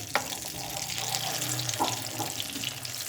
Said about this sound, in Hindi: बिल्कुल हमने दरमियानी आग पर इनको फ्राई करना है।